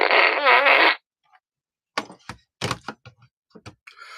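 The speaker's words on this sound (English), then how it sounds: "I got the fart gun out." A fart gun toy lets out one long buzzing, rattling fart lasting about a second, loud and close, followed by a run of scattered knocks and clicks.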